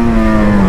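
Motorcycle engine, a Hornet or XJ6, holding a brief steady high-pitched whine with clear tonal harmonics, close and loud, with no talking.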